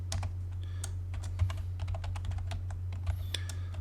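Rapid keystrokes on a computer keyboard enter an AutoCAD shortcut: close, crisp clicks in an uneven run over a steady low electrical hum.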